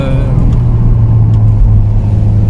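Engine of a 1991 Toyota MR2 Mk2 with the 2.0-litre twin-cam 3S-GE, droning steadily and loudly from inside the car while it pulls through the gears under acceleration.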